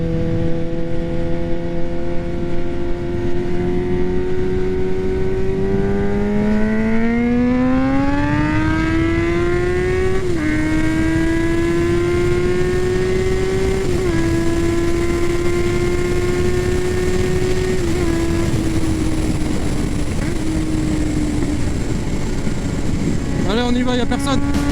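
Kawasaki Z800 motorcycle with a decatted Arrow exhaust line accelerating hard in a speed test: a loud, close, continuous engine roar rising in pitch, with brief dips at gear changes before climbing again.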